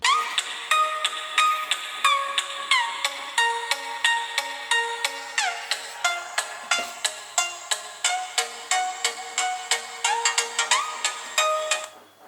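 A Moto E5 Plus phone plays a ringtone through its front-facing speaker: a bright, fairly quiet melody of rapid plucked-bell notes in steady repeating rhythm, heard alone for about twelve seconds.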